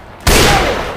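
A single loud gunshot from a headshot in the video game Left 4 Dead 2 cracks in sharply after a brief lull, then rings out with a sustained, dense blast tail.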